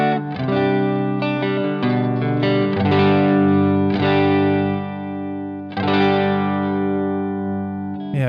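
Electric guitar heard through Ultimate Ears UE-18+ in-ear monitors, playing a run of chords with a chorus-like, slightly distorted, mid-heavy tone, several strums and a fresh attack near the end, played alone without talk.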